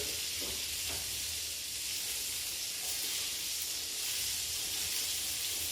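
Food sizzles in hot oil in a pan in a gastronomy kitchen, giving a steady close hiss with a few faint stirring clicks.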